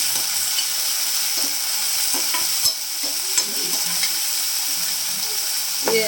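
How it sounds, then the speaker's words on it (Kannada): Onion and tomato fry and get stirred in a pan for aloo curry, with a steady close sizzle and scattered scraping clicks of a spatula throughout. "ಟೊಮೊಟೊ ಹಾಕ್ಕೊಂಡ್ರೆ ನೀಟಾಗಿ ಫ್ರೈ ಮಾಡ್ಕೋಬೇಕು."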